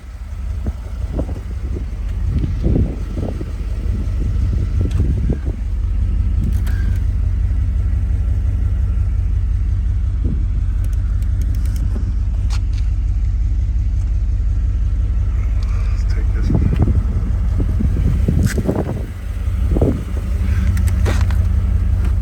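A 1988 Chevrolet Camaro IROC-Z with a 5.7 V8 and about 1,585 miles drives along, its engine a steady loud low rumble with a few swells of revving as it accelerates, heard close with no talk.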